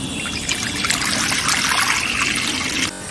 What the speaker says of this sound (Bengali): ডিমটা সিদ্ধ দেবো, জলটা দিয়ে দিই।